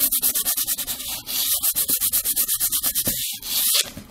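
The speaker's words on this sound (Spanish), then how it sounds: "con una lija al agua 400, la parte donde está la textura, la pasta, voy a proceder a lijar" Wet 400-grit sandpaper rubbing over textured paste on a small craft box, a close, rapid series of rhythmic back-and-forth scratching strokes with a short pause partway through.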